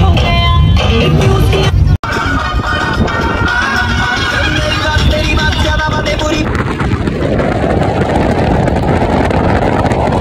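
A chander gari jeep on a ride in Cox's Bazar, its engine a steady loud drone with heavy wind buffeting the microphone throughout, the roar shifting in tone partway through.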